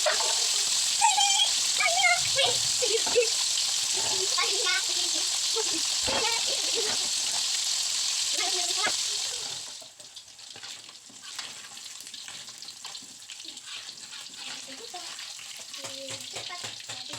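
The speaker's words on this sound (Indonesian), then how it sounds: "Setelah minyaknya panas, masukkan ikannya." Selar fish fry in hot oil with a loud, dense sizzle and crackle up close. The sizzle drops sharply to a quieter spitting halfway through, and a voice speaks faintly underneath.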